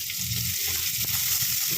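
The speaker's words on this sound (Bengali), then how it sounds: "এখন এবারে কাঁচা পেঁয়াজগুলো কুচিয়ে রেখেছিলাম সেগুলো দিয়ে দিলাম" Chopped raw onions sizzle and fry in a pan, a steady close hiss with a soft stirring scrape partway through.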